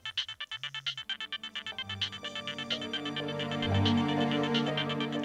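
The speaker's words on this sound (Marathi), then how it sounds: "कुणाचा फोन आहे?" A phone ringtone plays a pulsing, repeated electronic pattern close by, then swells into a fuller melodic tune that keeps ringing steadily with no one talking.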